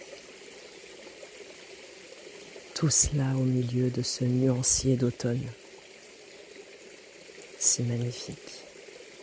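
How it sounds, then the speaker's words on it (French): A forest stream runs over small cascades in autumn woods, a steady close rush and trickle of water under a calm voice speaking for a few seconds. "De tous ces petits mouvements induits par le courant et les petites cascades"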